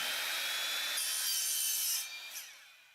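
A handsaw cuts through metal coping tube to length on a skateboard halfpipe, a steady close rasping stroke that runs continuously for two seconds and then trails off, with no talking.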